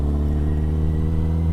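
A car travels along a freeway, making a continuous low engine and road rumble that stays even throughout with no talk.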